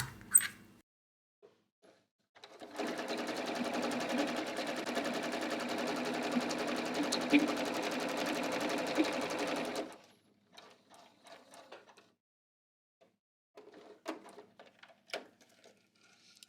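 Sewing machine running a zigzag seam finish along a pant in-seam: a steady, fast mechanical whir lasting about seven seconds close by, then brief light clicks and handling noises.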